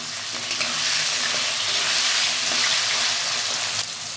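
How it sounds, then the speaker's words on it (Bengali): Potatoes fry in hot oil with bay leaf, cumin, cardamom and cinnamon, a loud, steady sizzle and crackle with the occasional scrape of stirring, continuous and close throughout. "আলু ভাজাটা তো আমার হয়ে গেছে বারবার একটু ডেকে ডেকে নাড়াচাড়া করে দিয়েছি"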